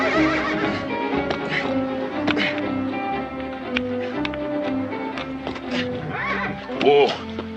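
A horse neighs and whinnies repeatedly, close and loud, with a shrill rising-and-falling call near the end.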